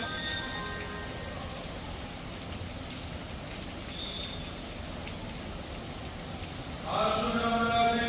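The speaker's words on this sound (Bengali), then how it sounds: "কিন্তু বৃষ্টি এসে গেছে" Steady rain falls outside a church at night, a continuous close patter on surfaces, swelling slightly louder near the end.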